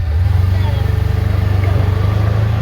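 Kubota utility vehicle engine cranking over and pulling away, a steady pulsing low idle-to-drive drone that stays loud and close throughout, no voices.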